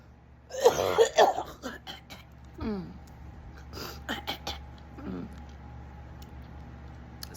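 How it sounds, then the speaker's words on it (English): A burst of harsh coughing near the start, followed by a few throat-clearing grunts and small sounds, then fairly quiet background. "you're going to find me coughing and spitting throughout"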